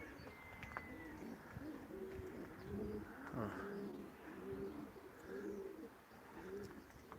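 Racing pigeons cooing in a loft, a steady series of soft, low repeated coos fairly close by, with occasional faint chirps and no talking.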